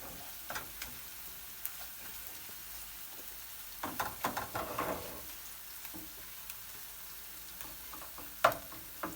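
Potatoes and dried peppers roast in a pan, giving faint sporadic sizzling with scattered clicks and scrapes of stirring, busiest in the middle and quiet elsewhere, with no talking.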